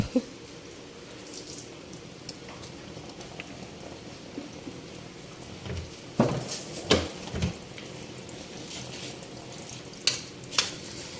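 Butter and oil heating in a pan as garlic is added: a soft, steady sizzle with a few sharper crackles and pops in the latter half, fairly quiet and without talk.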